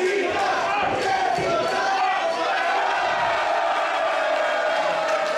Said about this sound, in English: As this crowd shows their displeasure for Casanova